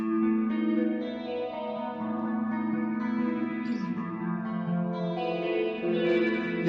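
An electric guitar rings out sustained chords through a shimmering modulation effect, the tone gently wavering with a chorus-like swirl and light echo.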